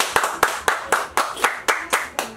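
Rhythmic clapping honoring an artist after his concert, about nine sharp evenly spaced claps in a steady beat, close and loud.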